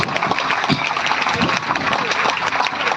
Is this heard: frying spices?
no